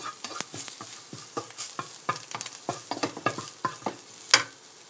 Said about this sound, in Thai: แบบคั่วแห้งๆเจียวพอกระเทียมหอมๆค่ะ